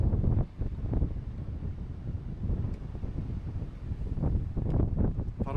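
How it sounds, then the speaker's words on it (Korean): Wind blows on an outdoor swing and buffets the microphone in uneven low gusts that rise and fall throughout, with a brief lull near the start. "바람 부니까"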